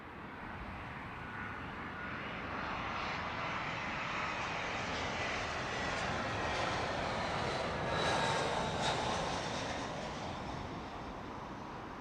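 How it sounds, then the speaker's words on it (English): Steady jet roar from a 19-year-old British Airways Airbus A319 landing on runway 27 left at Heathrow after a flight from Budapest, moderately distant and swelling gently toward the middle before fading slightly. "This is British Airways 869 on an A319 coming in from Budapest"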